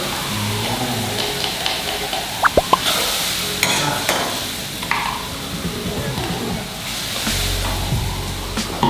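A thick cream sauce, thinned with a splash of water, is stirred in a pan with a spoon scraping and clinking in uneven strokes over a soft bubbling simmer, with a few sharp knocks.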